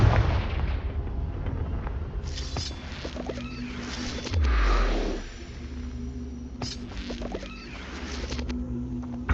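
Confringo blasting spells go off in the video game Hogwarts Legacy, with a deep rumbling burst in the middle, surrounded by crackling magical effects and scattered impacts over a dense game soundscape.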